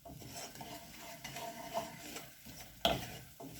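A spoon stirs pumpkin risotto in a pot with quiet scraping and sloshing, closing with one sharp metallic clink against the pot's side.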